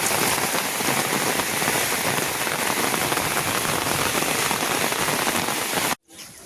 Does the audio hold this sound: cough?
no